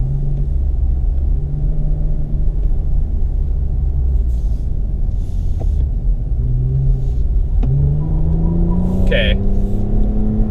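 A 2020 Toyota Avalon TRD's engine drones loud and steady from inside the cabin, its pitch climbing then dropping at a gear change into third near the end, with a brief word spoken over it.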